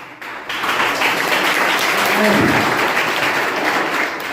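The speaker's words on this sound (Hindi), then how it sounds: "तालियां बजाते रहिए।" An audience at an orientation program claps loudly and continuously, dense applause swelling after a brief quiet start and holding steady.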